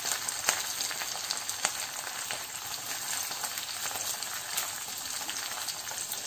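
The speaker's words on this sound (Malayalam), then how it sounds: "ഇതിലേക്ക് നമ്മുടെ മെയിൻ ഇൻഗ്രീഡിയന്റ് ആയ നമ്മുടെ ചങ്ങലം മരണ്ട ഇട്ട് കൊടുക്കാം. നന്നായിട്ടൊന്ന് വഴറ്റി എടുക്കണേ." Hadjod plant (changalamparanda) sautéing in a hot pan for a chutney, producing a continuous, dense sizzle and crackle with a few sharp utensil taps, close and steady throughout with no talking.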